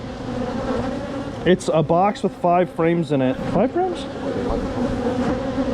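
Honey bees buzz steadily around hive frames in a box near a backyard catio, a constant droning hum under a short stretch of people talking nearby.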